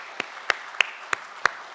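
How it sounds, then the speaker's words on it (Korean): During a Sunday morning church service, five sharp, separate claps ring out at a slow, uneven pace, close and crisp against a quiet room. "박수로 환영하겠습니다"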